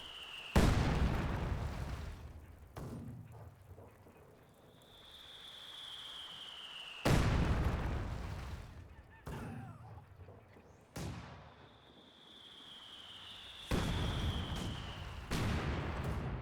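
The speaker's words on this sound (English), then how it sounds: "all here is just mortars firing away against each other" Mortars firing back and forth in the World War II strategy game Company of Heroes 2; repeated heavy booming blasts at irregular intervals, some close and loud, others fainter, with whistling incoming shells between them.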